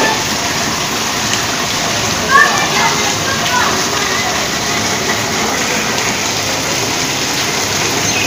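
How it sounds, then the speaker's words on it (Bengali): Steady rain falls on a rainy Friday morning, a broad continuous hiss that runs evenly throughout with no clear individual drops. "তো আজ বৃষ্টি হইতেছে,"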